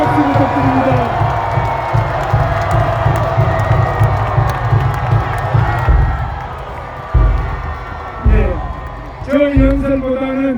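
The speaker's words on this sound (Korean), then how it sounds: "여러분 다시 한번 큰 박수 부탁드립니다." A crowd cheers and shouts at a presidential campaign rally outside Seoul City Hall, loud and close, with bursts of whooping rising between stretches of amplified speech.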